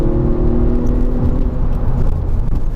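A Mk6 Volkswagen Golf R engine hums steadily and loudly from inside the cabin, with a throaty exhaust drone and a deep rumble that barely changes.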